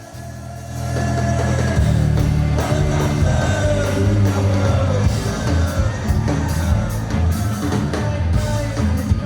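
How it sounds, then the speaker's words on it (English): A concert crowd goes berserk during a song transition in an archival recording, a loud roaring mass of shouts, yells and whoops that swells after a quieter opening and stays intense. "getting that more of that context of the crowd going berserk during a transition"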